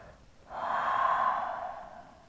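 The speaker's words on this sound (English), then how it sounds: "One full round of breath here" One long, slow, deep breath during a yoga session, a soft airy exhale swelling and fading close to the microphone, alone without talk.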